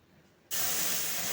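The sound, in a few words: milk added to ghee and rice flour sizzling in pan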